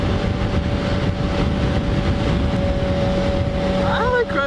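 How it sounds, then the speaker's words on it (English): Yamaha FZ6R motorcycle cruising on an expressway, a steady loud engine drone with heavy wind rush throughout and a brief rising whine near the end. "I like riding this bike on the expressway."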